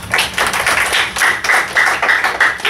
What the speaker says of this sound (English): Well done. Clap it up.